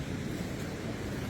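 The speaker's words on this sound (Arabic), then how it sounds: "هذا صوت النهر" The Tugona river flows in a steady, unbroken rush of water, loud and close, with a windy, surf-like roar and no voices.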